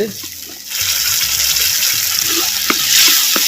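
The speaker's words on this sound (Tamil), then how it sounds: "சேர்த்த தக்காளி பழம் விழுதுகள் நல்லா பச்சை வாடை போகிற அளவுக்கு நல்லா வதக்கிட்டுருவோம்" Tomato paste sizzles and spits in hot oil in a pan, sautéing for a sardine fish curry, a close steady frying hiss with stirring clatter that starts after a brief quiet moment.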